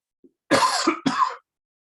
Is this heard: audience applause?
no